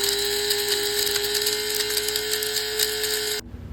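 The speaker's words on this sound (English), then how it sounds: "so we're going to go ahead and grind it up." An electric grinder whirs steadily at close range as it grinds dried sunflower seeds into flour, with a grating rattle, then cuts off abruptly near the end.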